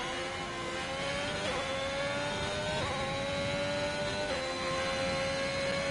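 An Alfa Romeo Formula 1 car in the F1 2021 game runs off the Japan circuit onto gravel, its engine whining steadily at high pitch with a few gear shifts, loud and alone.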